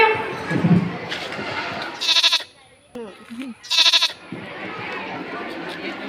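Two loud, close goat bleats ring out during a Basheer Day celebration, separated by brief pauses, with people chattering before and after.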